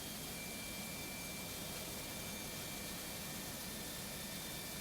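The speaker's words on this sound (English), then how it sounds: "The sound you hear of the little jet engine, you can even see a little bit of fuzzy stuff behind the airplane, but that's our APU that's running." The auxiliary power unit of an Airbus Beluga in a flight simulator, a small jet engine giving a steady, faint, broadband whine and rush with a thin high tone, continuous and unchanging, heard alone.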